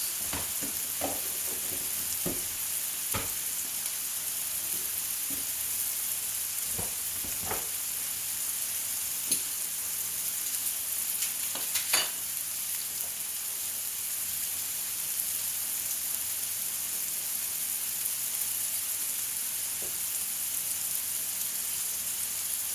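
Chopped leeks fry in a pan with sausage gravy mix, giving a steady, even sizzle throughout, broken by a few soft clicks and scrapes of stirring, with no voices.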